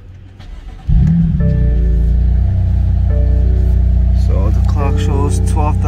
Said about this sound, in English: Let me start it up. It's a cold start.